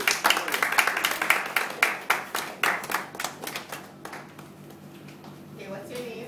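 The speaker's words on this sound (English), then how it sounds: "Can you give her a round of applause, please?" An indoor audience claps for a volunteer at a live presentation, a burst of dense applause that thins out into scattered claps and fades toward the end, with faint voices underneath.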